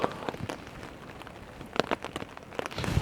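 Storm rain beats on a leaking camping tarp on the west coast of Scotland. Irregular close patter is broken by sharper, heavier drops splatting down, with no speech.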